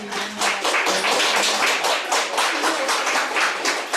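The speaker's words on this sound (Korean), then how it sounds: "우리 세바스찬 오래간만에 이렇게 나왔는데 예, 박수 하겠습니다." A church congregation claps together in a lively, steady rhythm, the sharp hand claps close and fairly loud throughout, with a faint voice briefly underneath at the start.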